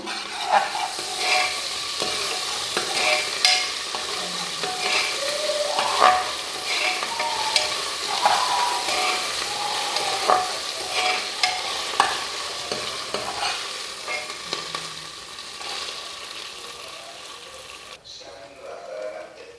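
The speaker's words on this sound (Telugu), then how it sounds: "వన్ టేబుల్ స్పూన్ అల్లం వెల్లుల్లి పేస్ట్ ఒకసారి కలుపుకుందాం" Ginger garlic paste frying in a pan while kichidi is cooked, stirred with a utensil: steady sizzling with repeated scraping and clinking strokes close by, fading to near quiet at the end.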